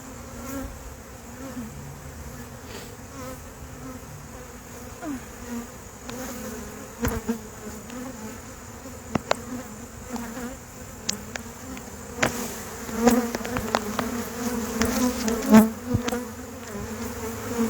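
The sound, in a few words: honey bees buzzing around a swarmed hive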